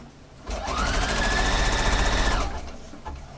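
A sewing machine fitted with a blind hemming foot stitches along knitted stretch fabric in one steady, loud, continuous run of about two seconds, starting and stopping cleanly.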